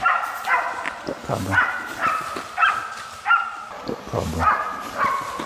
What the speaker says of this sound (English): The barking of the hounds signaled that the target was getting close.